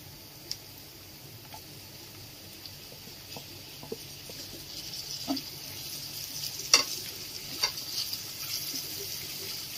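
Chopped onion and tomato fry in a pan as a spoon stirs them: a soft, steady sizzle with occasional light scraping ticks, quiet and close, without talk.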